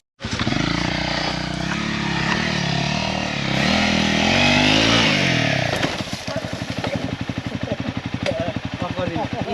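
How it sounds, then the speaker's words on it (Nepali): A Crossfire motorcycle engine strains on a steep uphill enduro climb, a loud sustained revving roar for about five seconds that drops to a rough, pulsing idle, with voices talking over it. "घुन निस्किन्छ तर बाइक चाहिँ चढ्दैन"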